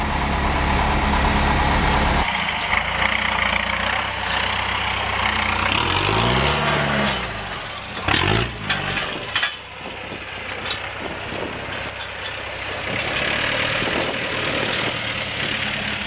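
A Toyota 4x4 fitted with a Cummins 4BT diesel idles with a steady low rumble, loud and close, with brief revving or shifting surges in the middle before settling back to idle.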